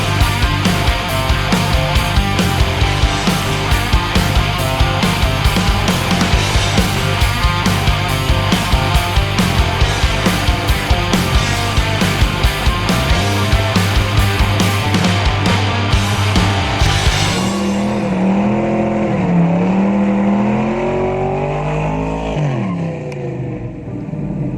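A GMC Sonoma GT with dragging rear brakes is driven along. A loud, rhythmically pulsing drone of engine and road noise carries a tonal singing from the brakes, then the pitch swoops down as the truck slows near the end.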